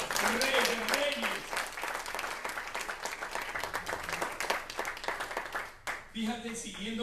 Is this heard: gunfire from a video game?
no